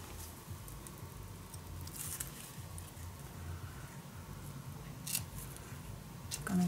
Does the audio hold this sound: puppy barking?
no